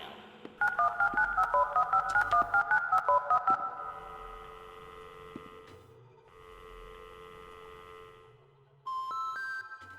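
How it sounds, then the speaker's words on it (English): Phone keypad tones from the video game Indigo Park beep in a quick run of a dozen or so rapid dial tones, followed by long steady ringing tones and a brief higher tone at the end, all over a low hum. "Rambley has the repairman on speed dial"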